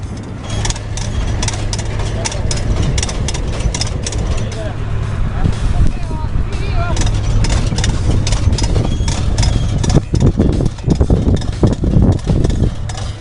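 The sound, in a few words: planting tractor engine running on a farm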